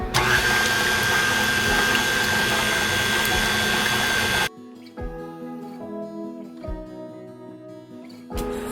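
Water and vegetable oil being mixed into a batter, a steady dense churning drone for several seconds that cuts off abruptly into quieter clinks and scrapes of the bowl.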